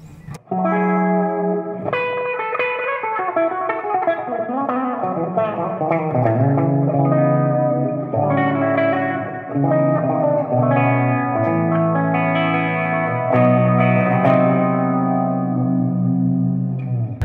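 Guitar phrases pass through a bass envelope filter pedal with its control rolled all the way down, producing a subtle, mild auto-wah on each note. The playing is continuous and close, with no speech.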